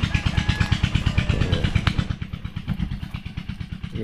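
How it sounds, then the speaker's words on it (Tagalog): A small irrigation pump engine watering a chili field chugs steadily and loudly nearby in a fast rhythmic putter, with a faint voice now and then underneath. "yung kabila po nagtutubig kaya medyo maingay po yung makina"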